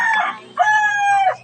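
A chicken gives two drawn-out, close calls, a short squawk followed by a longer crowing-like cry, clear and loud with no talk.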